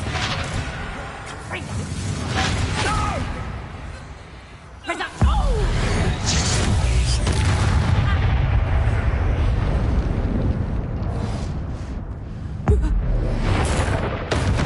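A Confringo fire spell explodes in Hogwarts Legacy, a sudden booming burst followed by a sustained roaring rumble, with a second sharp impact near the end, loud amid ongoing combat effects.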